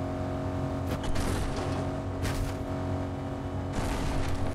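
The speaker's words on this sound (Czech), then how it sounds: "On si říká, hej, já slyším auto." A car drives in the Fortnite Chapter 5 video game, with a loud, steady engine roar and brief louder bursts and no talk.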